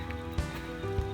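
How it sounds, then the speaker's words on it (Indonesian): Light drizzle falling on the Mt. Gede trail in West Java along the Putri route between posts, a soft continuous patter with a few nearer drops and a low steady hum underneath, moderately quiet. "karena hujan belum benar-benar reda, hanya memang udah beranjak gerimis gitu"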